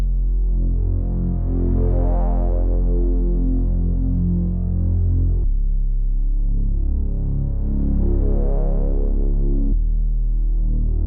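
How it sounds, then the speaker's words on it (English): A sub bass line built in FL Studio playing on its own through a sequence of notes, deep sustained humming tones with gently pulsing throb, loud and steady with a brief drop between phrases. "So just playing the bass sound by itself"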